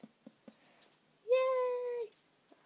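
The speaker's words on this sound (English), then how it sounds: "What's that cat doing? Is he crazy?" A single drawn-out cat meow, loud and close, lasts under a second after a few faint knocks and rustles in a quiet indoor room.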